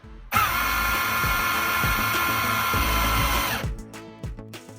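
A cordless drill with a metal keyless chuck that opens to 13 mm spins up sharply and runs steadily at high speed for about three seconds, then cuts off and winds down into a few faint knocks.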